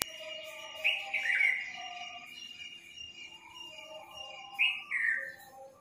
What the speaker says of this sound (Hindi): कितनी प्यारी आवाज़ आती है ना सुबह सुबह पंछियों की।